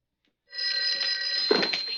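A telephone bell rings in a military office setting, starting after a short silence and sustaining a continuous, bright metallic ring with a steady tone throughout, loud and close with no talk.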